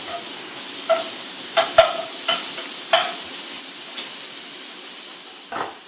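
Bacon rendering in a pan gives a soft background sizzle, marked by a string of separate stirring clicks and scrapes every second or so, close but fairly quiet.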